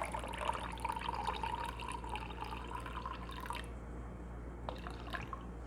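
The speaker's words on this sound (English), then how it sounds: "And then let's put in our coffee." Cold brew coffee poured into a glass at home, a soft, faint trickle of liquid running steadily for several seconds before tapering off, with a few small drips afterward.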